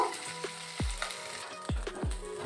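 Dried red chilies hit hot oil left over from frying prawns, giving a steady close sizzle broken by a few sharp crackles and pops, with no voices.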